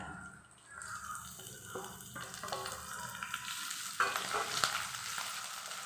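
Curry leaves, dried red chillies, green chillies and onion tossed into hot oil with cumin, a soft sizzle that swells with sharp crackles and spoon clinks as ingredients land.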